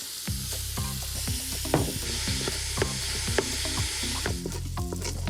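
Ground chuck sizzles and fries in a pressure cooker for a Bolognese sauce, with repeated spoon scrapes and stirring strokes over a steady crackle; no talking.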